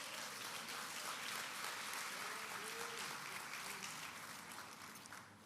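Congregation applauding at a Brazilian evangelical church service in Brasília, a dense, steady wash of clapping throughout that fades slightly at the end, with faint voices mixed in.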